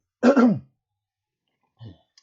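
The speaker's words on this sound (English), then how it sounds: "clear my throat this morning" A single loud throat clearing close up, followed by a brief softer grunt after a short pause.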